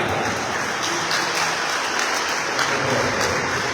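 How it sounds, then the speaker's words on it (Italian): An audience at a veterans' sports event in Alghero applauds steadily, a dense, even wash of clapping heard from a moderate distance. "Un applauso a Natalia."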